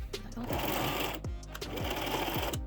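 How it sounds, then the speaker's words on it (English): Sewing machine stitching down a zipper on a tiered skirt, running in a few short, fast bursts with brief pauses, close and steady throughout. "I think now I'm just gonna do a quick sew down on this side, so I can cut it shorter."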